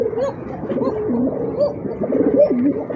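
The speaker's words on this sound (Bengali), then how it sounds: "ওই যে দেখেন কোকাটা এখনো ডাকতেছে" A satin pigeon coos nearby in a loud, repeated series of soft throaty rolling calls, rising and falling in a steady rhythm.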